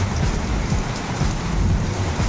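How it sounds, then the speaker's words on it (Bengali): Steady night rain hisses throughout while low rumbles of thunder roll underneath in repeated deep swells, fairly close and loud, with no voices. "মেঘের গর্জন, কি মেঘ গর্জন হচ্ছে।"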